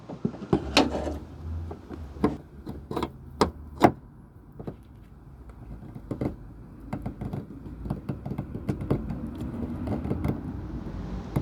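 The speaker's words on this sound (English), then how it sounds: "if we just keep pulling and keep prying, then eventually the clip will release" Screwdriver prying at a headlight retaining clip on a Nissan Micra K11, giving a run of sharp plastic clicks, knocks and scraping taps up close, some louder snaps early on over a low rumble.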